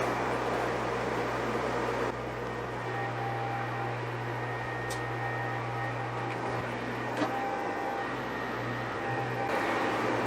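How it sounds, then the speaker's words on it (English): A steady mechanical hum and hiss of a screen-printing conveyor dryer drones on without pause, with occasional faint clicks and no speech. "I'm gonna lay it down on the conveyor dryer over here."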